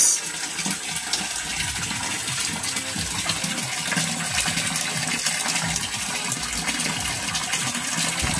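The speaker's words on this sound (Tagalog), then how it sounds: "Nagpatubig ako dito sa tub" Tap water gushes steadily into a bathtub in a home bathroom, a loud continuous splashing fill that runs unbroken throughout.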